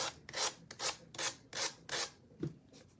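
Rhythmic back-and-forth rasping of hand sanding on a small piece, about seven quick strokes, close and fairly quiet.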